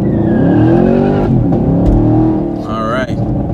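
A 2019 Chevrolet Camaro 2SS V8 pulls hard from a launch, a loud, continuous rising engine roar filling the clip with tire noise, while a voice speaks briefly near the end.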